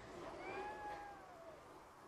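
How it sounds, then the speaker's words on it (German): A white cat in the video game RoboCop: Rogue City gives a soft, rising meow with a clear tonal wail, faint and fairly distant, with no talking over it. "Das ist witzig. Eine weiße Katze."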